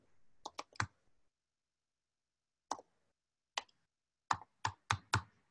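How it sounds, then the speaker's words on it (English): Keys on a computer keyboard are tapped in short clustered bursts with a long pause between them, quick close clicks in a quiet room and no talking. "I'll just type it in real quick."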